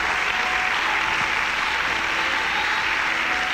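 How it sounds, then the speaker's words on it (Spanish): Church congregation applauding the Lord during a Spanish-language sermon, a dense, loud, continuous wash of clapping from many hands that holds steady throughout. "Dale un aplauso al Señor con todo su corazón."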